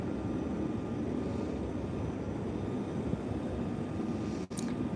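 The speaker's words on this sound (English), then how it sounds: "there's one you can see taxiing right there. These are F-35s" An F-35 fighter jet taxis at Luke Air Force Base in Phoenix, Arizona, giving a steady, distant engine roar that holds level throughout, with a brief dropout near the end.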